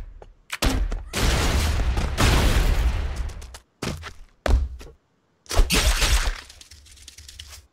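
Grenade blast and chaotic combat in the video game The Expendabros: loud, dense bursts of explosive noise and gunfire-like crashes, several long roaring stretches separated by brief silences.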